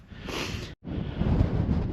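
Steady wind on a Lake District fell buffets the microphone with a loud, rough roar, cut by a brief silent gap before gusting on again; no one speaks.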